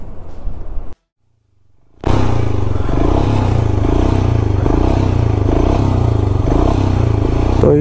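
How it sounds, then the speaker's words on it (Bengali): A motorcycle engine on a rough offroad mountain track toward Muktinath in Lower Mustang, Nepal, bursts into life after a short pause, then runs loud and close with a pulsing, clattering throttle. "বাইকটা কিছুতেই স্টার্ট নিচ্ছে না তো"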